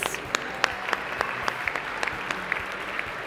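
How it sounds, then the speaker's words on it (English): Audience at the Voyager Media Awards 2021 ceremony gives a round of applause for the sponsors, a fairly quiet, steady patter of many clapping hands with a few sharper individual claps standing out. "Let's hear a round of applause for our sponsors"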